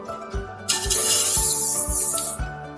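Onions sizzle and hiss in a little hot oil in a pan, a close, bright frying sound with soft rhythmic low thumps beneath it.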